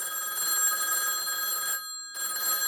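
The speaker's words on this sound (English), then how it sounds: "lights start flashing on all the phones, and they start ringing all at once" Several telephones ring together in a dense electronic trill, holding steady with one brief gap before resuming.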